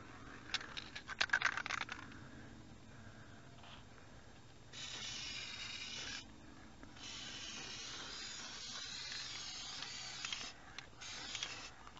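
A Duplicolor spray paint can hisses out thin back-and-forth passes, a short burst first, then two longer, steady sprays close by, with no speech.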